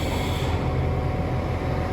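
A six-carriage passenger train at a station platform, a steady loud rumble of the train running close by with no voices.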